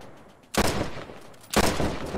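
Gunfire in the video game Battle of the Frontiers: two loud, dense bursts of rattling shots roughly a second apart, each sustaining briefly before tailing off, with no talking.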